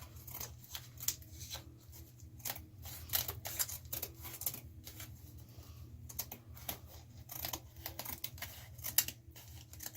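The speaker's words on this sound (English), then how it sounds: "we are just going to trim our edges so this will fit back in the frame" Scissors trim the edges of craft material for a farmhouse-style frame, making many quick, crisp snips close by in an irregular rhythm over a low hum, with no talking.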